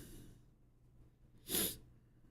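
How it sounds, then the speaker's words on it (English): A single sharp sneeze bursts out after a moment of quiet breathing, close and fairly loud. "I have to sneeze."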